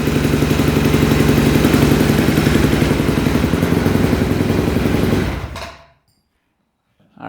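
A repaired dirt bike engine idles loud and close with a steady, even rapid putter, then cuts off and falls silent near the end.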